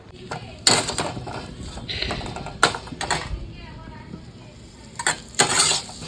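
Potatoes with cumin tempering, green chilli and tomato stirred in a pan, a spoon scraping and clinking against metal in uneven bursts with a faint sizzle under it.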